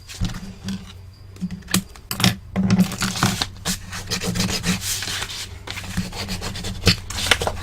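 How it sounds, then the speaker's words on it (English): Tape being burnished down by hand onto a handmade paper box album, heard as close, repeated rubbing and scraping strokes in uneven bursts with small taps between. "burnish that tape down, release the tape backing."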